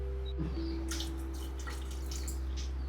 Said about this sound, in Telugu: ఇంకా కొంచెం వాటర్ పడుతుంది.